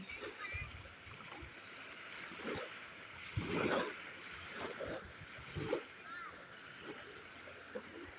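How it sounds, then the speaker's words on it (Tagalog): Waves wash and splash near the shore in irregular surges, with a person talking faintly at times beneath the water noise. "Ingay ngayon ang dagat."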